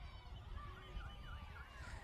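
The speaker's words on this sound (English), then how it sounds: "Full-time siren goes in the background." A full-time siren at a men's rugby league quarterfinal, a faint wavering wail in the distance beneath steady crowd and field noise, with no clear talk.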